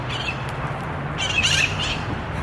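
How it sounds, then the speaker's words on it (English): Parrots squawk overhead in a noisy flock, harsh bursts rising over a steady low hum of outdoor background, loudest around the middle. "Little noisy squawking parrots just flying all over the place."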